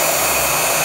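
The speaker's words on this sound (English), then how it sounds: "Okay, that's just the fan." A Ryobi 40V 1800W power station runs an AC unit in fan-only mode, giving a steady, loud broadband whoosh of moving air with no pauses, close to the mic.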